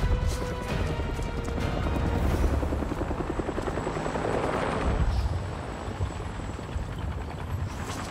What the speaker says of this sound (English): I hear it, but I don't see the chopper.